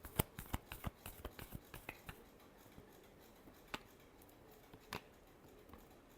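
Tarot cards being shuffled for a final time, a quick series of crisp papery riffles and slaps at the start, then a few sparse soft taps, close and quiet with no talking.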